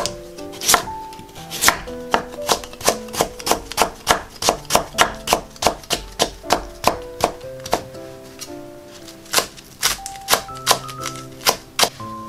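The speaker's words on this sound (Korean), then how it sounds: "달래를 씻어서 작게 송송 잘라주세요" A knife chops wild chives (dallae) into small pieces on a board, a fast steady run of close, crisp taps, about two per second, heard alone.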